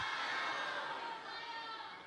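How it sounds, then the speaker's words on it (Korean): A room of children at a church Sunday service shout back together in one loud, sustained roar that fades slightly toward the end. "거의 함성을 지르는 것 같아요"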